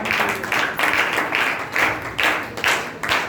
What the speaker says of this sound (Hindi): फिर से ताली बजाएंगे हालेलुया